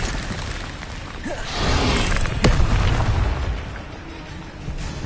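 Incendio fire spell cast in the Hogwarts Legacy video game, a sudden whooshing burst that swells over a second or two with a sharp crack in the middle, set amid continuous game noise.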